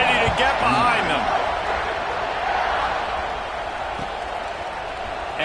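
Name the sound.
football stadium crowd cheering at kickoff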